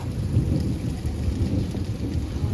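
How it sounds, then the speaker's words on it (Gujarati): Low rolling thunder rumbles beneath a steady wash of falling rain, continuous and fairly close. "વરસાદ ચાલુ હો ગાજી રહ્યો છે"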